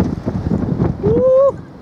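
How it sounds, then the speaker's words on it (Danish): Strong wind buffets the microphone at an outdoor youth football match, a low rumbling gust throughout, with a whistle blast cutting through near the end. "Ej, hvor det blæser."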